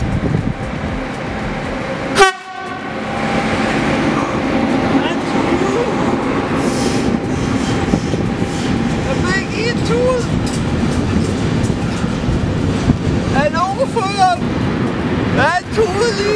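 A German electric locomotive hauling a train across a railway bridge, with a sharp horn blast near the start and then a steady, loud rolling rumble throughout, with faint voices in the background.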